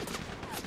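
Rapid bursts of gunfire from Grand Theft Auto V, a dense, continuous volley in the game with no voices over it.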